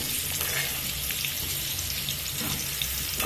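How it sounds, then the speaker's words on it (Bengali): Potatoes frying in a pan after chicken has been fried, giving a steady, even hiss with a watery, bubbling texture that holds close and constant throughout, with no voices. "এবার আলুগুলো ভেজে নেব, আর আলুগুলো এমনভাবেই ভাজবো যেন ভেতরটা একটু নরম হয়ে যায়"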